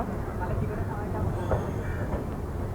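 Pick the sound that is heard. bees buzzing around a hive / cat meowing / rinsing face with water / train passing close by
train passing close by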